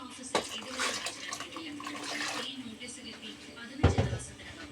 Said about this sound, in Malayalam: ആ വെള്ളം കൂടി ഒഴിച്ചു കൊടുക്കാം.